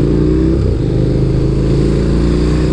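A KTM Super Duke 1290 R motorcycle engine revs loud and close, a steady, throaty drone that dips briefly partway through before holding its roar.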